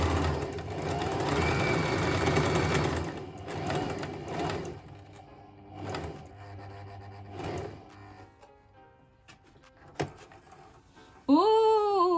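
Sewing machine running a straight tight stitch, a loud close mechanical whir for a few seconds that then gives way to quieter intermittent clicks and handling sounds.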